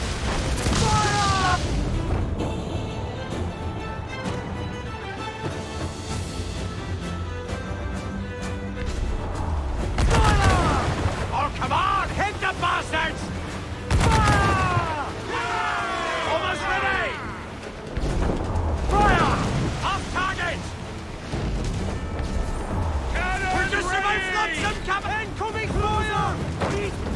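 A ship's cannon broadside in Assassin's Creed IV Black Flag, heard as repeated heavy booms at irregular intervals amid dense battle noise, with shouted voices and crew chatter throughout.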